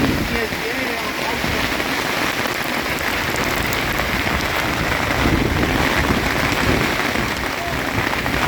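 Steady rain falls at an outdoor gathering in the woods, a dense continuous patter on surfaces with no voices, even and unbroken from start to finish.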